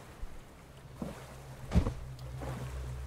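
A boat in the video game Stranded Deep pushes through water with soft sloshing and a few louder splashes, close by, over a low rumbling hum; no one speaks.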